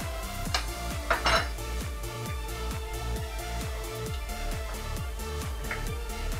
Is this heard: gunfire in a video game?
no